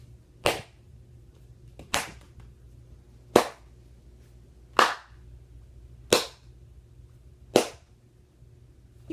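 Six sharp, single hand claps ring out at roughly even intervals of about one and a half seconds, each crisp and isolated against a quiet background hum.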